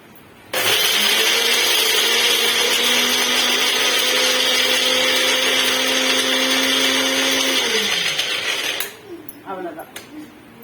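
Electric blender grinding ingredients for a cluster bean poriyal, a loud steady whirring motor that starts abruptly, runs for about eight seconds and winds down, followed by faint rattling.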